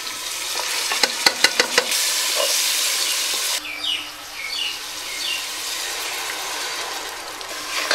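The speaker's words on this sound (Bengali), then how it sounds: "মশলাটা ভালো করে কষাতে হবে।" Ginger paste, star anise, cinnamon, cardamom, mace, cloves and ground chili, coriander, cumin and salt sizzle in a hot pan, with a few sharp scraping clacks of stirring, then a steady close frying hiss that drops and resumes.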